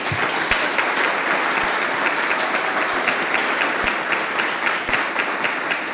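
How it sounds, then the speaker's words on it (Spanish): Steady, dense applause from a large audience at a foundation's presentation event, sustained throughout with sharp individual claps standing out now and then. "un fuerte aplauso para todos ellos"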